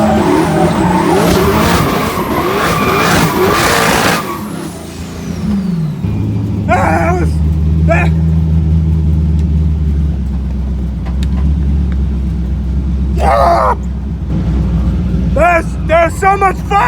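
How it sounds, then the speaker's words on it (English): A loud drift car engine screams near the rev limiter with tire squeal and a wavering high-pitched roar. It then drops to a lower rumbling idle, while people's voices break in now and then. "It's a drift car. It lives on the rev limiter."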